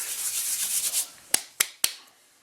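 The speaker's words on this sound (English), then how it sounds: "we always rub it between our hands to release the flavor" Dried homegrown oregano leaves rubbed between the hands, a soft dry rustling hiss for about a second, followed by three sharp brief taps or claps, close and alone with no talk.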